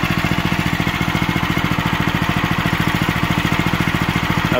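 A new 6-horsepower Harbor Freight small engine drives a homemade surface-drive boat motor, chugging steadily and loudly with a fast, even putter that holds constant throughout.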